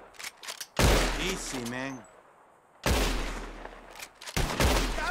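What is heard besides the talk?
gunshots in video game Red Dead Redemption 2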